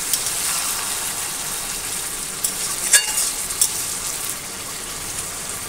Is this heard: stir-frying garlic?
yes